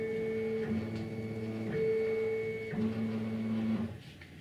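A CNC laser cutting machine's gantry travels with the laser switched off, steady whining motor tones that shift pitch in segments as the head moves, close and continuous with no speech.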